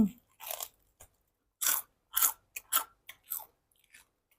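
Someone bites and chews re-fried crispy pork leg, giving a short series of loud, close crunches with brief silent pauses between bites and no talking.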